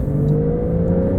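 Porsche 911 Carrera's 3-liter flat-six, 2022 PDK model, droning steadily and loud from inside the cabin, its engine note holding a smooth, even pitch for a second or so without talk.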